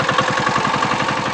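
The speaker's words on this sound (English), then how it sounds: "we have got a small vehicle over here which is locally known as the engine van." Small locally built motor vehicle known as an engine van, its engine running with a steady, rapid chugging pulse, close and loud, with no talk.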